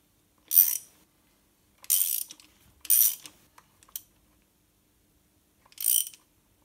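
A ratchet wrench tightening a spark plug on a petrol Renault Clio 2, five short separate bursts of rapid clicking, close and crisp, separated by silence.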